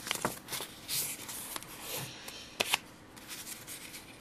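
Paper being creased and folded in half during a 1/12 scale miniature chair build, with soft close rubbing and a few sharp crisp crackles, no voice.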